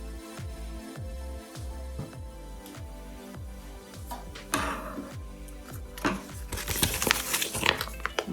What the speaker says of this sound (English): I'm going to take the transfer tape off its backing and attach the tape to this.